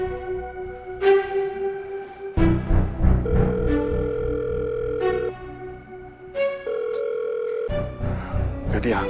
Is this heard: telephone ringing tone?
yes